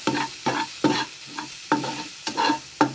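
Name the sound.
sautéing in fish-frying oil in a pan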